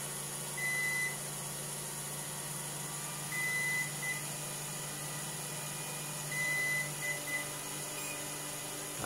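A Hobbywing Max6 ESC emits programming beeps: three short, faint, high tone bursts spaced about three seconds apart over a steady electronic hum.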